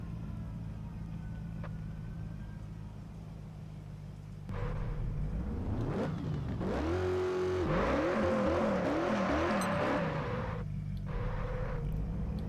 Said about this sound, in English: It's a this is an inline 6 and it sounds like a V8. The sounds of this game are definitely not great.